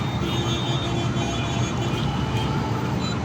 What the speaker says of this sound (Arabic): عربية إسعاف هناك اهي